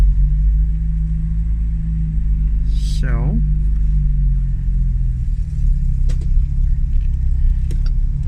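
A 1969 Jaguar E-Type XK-E 2+2 Series 2, its engine still cold, drones with a steady low rumble as the car drives, with a brief voice near the start.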